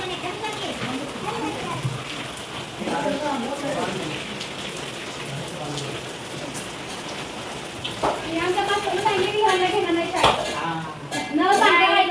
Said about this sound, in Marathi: जसं आम्ही इथं आलो तसं भरपूर पाऊस आला